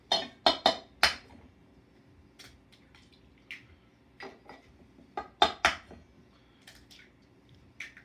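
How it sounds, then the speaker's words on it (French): Eggs cracked into a bowl for Christmas sugar tart filling, crisp sharp taps and clinks in quick clusters, close and distinct, with wet squishy sounds and quiet gaps between. "on casse nos œufs"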